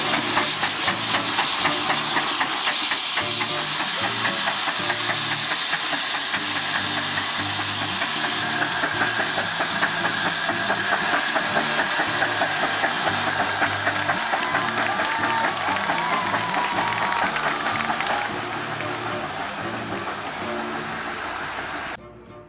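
Vintage steam engines run at the Woolpit Steam Rally, a loud continuous hiss of steam over rapid rhythmic mechanical clatter and thumping, the hiss easing slightly near the end.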